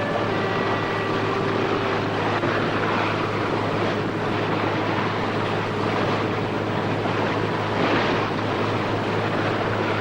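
Motorboat cruising at about 12 knots off Western Australia with dolphins riding the bow wave; a steady, loud engine drone and rushing water and wind noise run continuously throughout, with no talk.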